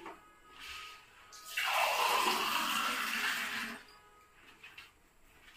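Water pours from a vessel into a pan while Garhwali gulgule are being cooked, giving a few seconds of rushing splash that rises suddenly and then cuts off. It is close and moderately loud, with quieter kitchen sounds before and after.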